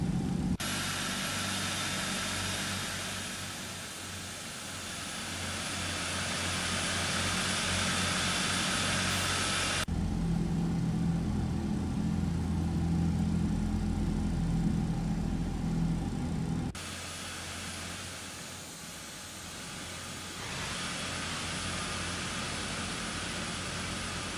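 An MD-11 airliner's engines in maximum reverse thrust in X-Plane 12, a loud sustained jet roar that shifts in tone and level several times as thrust changes, with no talking.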